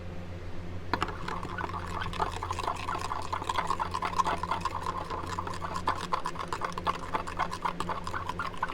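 A spoon clinks and scrapes steadily in a small cup while stirring a color mixture for stick baits, producing a continuous run of close, light taps and swishes after a brief quiet start.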